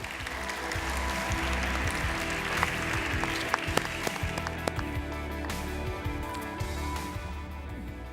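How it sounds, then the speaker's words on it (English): An audience at a healthcare design panel applauds with a steady wash of clapping that goes on for several seconds. A few sharper individual claps stand out before it slowly thins. "Give him a round of applause,"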